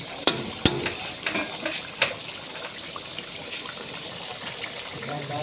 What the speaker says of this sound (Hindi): ज़ीरा डाल के हमने अच्छे से इसकी भुनाई करनी है।